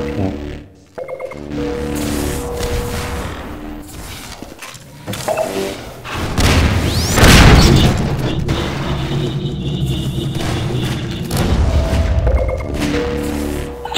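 RPG rockets explode in the video game Half-Life 2 Deathmatch, with heavy booming blasts and crashing impacts over a busy layer of mechanical whirs and weapon noise, loud and sustained through most of the stretch.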